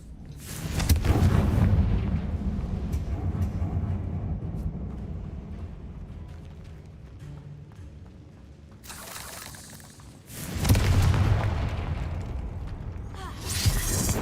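Spell blasts from the video game Hogwarts Legacy, heavy booming explosions with rumbling decay, one long blast at the start and further bursts later, loud and close, with no voices over them.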